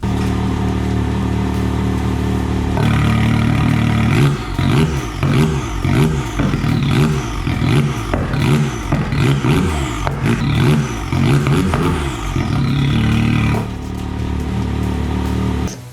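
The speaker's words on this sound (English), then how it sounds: "you can hit a switch and open up your exhaust" A Can-Am Maverick X3 side-by-side with its exhaust valve opened revs repeatedly on the dunes, loud close throttle blips rising and falling in quick succession over a steady roaring idle.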